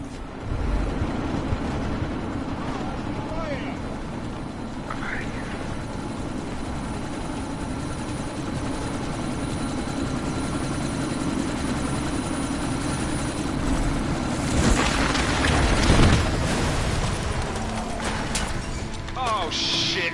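A helicopter in Deus Ex: Mankind Divided flies nearby, its rotor and engine droning and chopping steadily throughout, with a louder swell near the end and brief voices over it.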